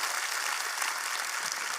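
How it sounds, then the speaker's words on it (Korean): Audience applause at a church gathering, a dense and steady burst of clapping from a crowd in a hall, with no voices over it. "박수 한번 해주시기 바랍니다"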